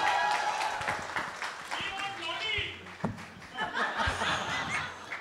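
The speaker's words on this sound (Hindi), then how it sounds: "एक बार जोरदार ताली चाहिए सिद्धार्थ के लिए" An audience at the Pathaan press conference gives applause for Siddharth Anand, mixed with chuckles and laughter and scattered claps, with voices over it at moderate loudness.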